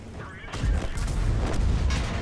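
The Object 268 4, a Tier X Russian tank destroyer in World of Tanks, fires its heavy gun in a loud, booming blast that rolls on as a rumbling tail, with a faint voice underneath.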